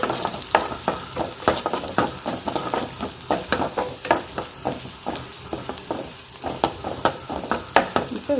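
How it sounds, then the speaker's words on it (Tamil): Onions with curry leaves are sautéed in oil for dal, sizzling continuously up close while a spatula scrapes and stirs them in quick, irregular strokes. "பருப்புக்கு இந்த வெங்காயத்தை நல்லா வதக்கிக்கலாம்"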